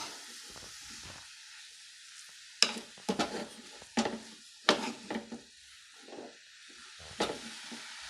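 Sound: stirring grated carrot frying in ghee

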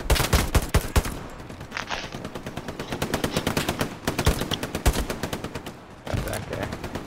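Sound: gunfire in a video game

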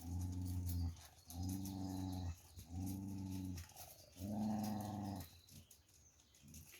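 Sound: Jindo dog growling

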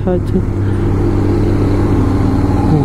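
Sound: trucks driving on Zoji La mountain pass road

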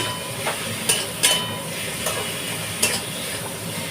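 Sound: diced potatoes being stirred and fried with spices

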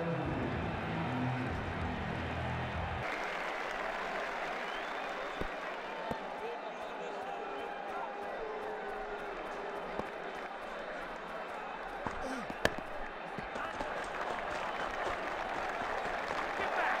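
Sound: crowd applause in cricket video game

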